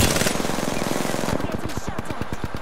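Gunfire in the battle royale game Apex Legends, a rapid automatic burst of evenly spaced shots that grows sharper and more distinct toward the end, loud and close, over background game noise.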